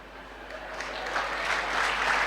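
An audience at a Tamil public speech bursts into applause, the dense clapping swelling steadily louder over a couple of seconds without any talking.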